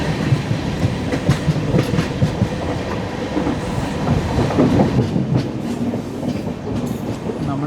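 The 16332 Express rolls along toward Walayar station, its wheels clattering in a steady clickety-clack with occasional squeals, heard close up from inside the carriage.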